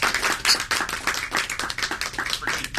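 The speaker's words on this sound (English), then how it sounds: "Can we give her a round of applause?" Audience applause in a room at a West Seattle literary reading event: dense, steady clapping from many hands, close and lively throughout, with no talk over it.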